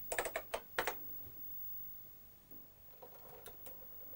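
A BBC Micro keyboard is tapped for a load-from-tape command: a quick burst of crisp key clicks, a pause with faint background hiss, then a few more spaced keystrokes, all close and quiet.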